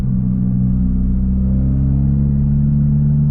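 Low, steady exhaust drone from a Toyota GR Corolla fitted with a new exhaust, cruising around 80 mph near 3,000 RPM in sixth gear; a loud, continuous rumble heard alone.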